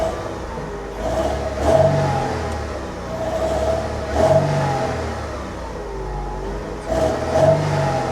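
A 2019 BMW 430xi Gran Coupe with 120,000 miles and a slightly rattly exhaust revs up to around 2,000 RPM three times, each short swell rising over a steady idle, close by.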